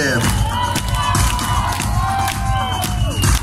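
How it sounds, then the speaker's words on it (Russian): An audience cheers and applauds after a ballet show, a loud crowd of claps, whoops and shouts that stays dense throughout with a voice over a sound system above it. "ваши бурные аплодисменты"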